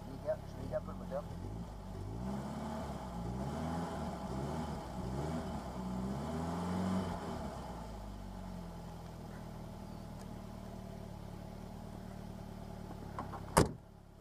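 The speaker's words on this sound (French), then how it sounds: "Attendez, je vais aider un peu le moteur." A Citroën BX 16 TRS engine runs steadily and is revved to raise the hydropneumatic suspension, a low droning hum that swells and settles, with a person talking nearby and a sharp click near the end.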